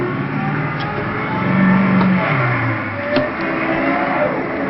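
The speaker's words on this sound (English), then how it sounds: "we could then proceed to letting go of the clutch slowly and putting some gas into this accelerator" A manual stick-shift car in reverse gear gives a low, steady engine rumble that swells briefly as gas is applied and the clutch is let out, then settles back to idle.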